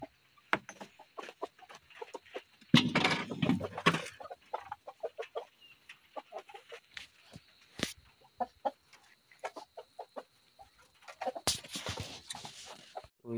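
Chickens and chicks on a village farm cluck and cackle repeatedly near by, with bursts of louder flapping and scuffling as the birds are let out of their pen.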